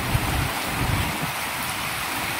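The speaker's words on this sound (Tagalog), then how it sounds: "sobrang lakas ng ulan guys" A downpour roars without letup, thick broadband splashing and patter filling the space, close and loud, no one talking.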